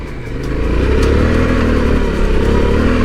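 A 2020 Yamaha Ténéré 700 rides a dirt trail, its engine a steady, close, loud drone with mild revving and some clatter throughout.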